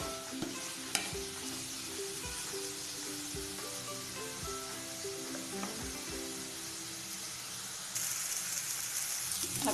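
Vegetables for a mushroom pancake filling frying in a pan, a faint, steady sizzle with a few soft stirring knocks, quiet throughout and slightly louder near the end.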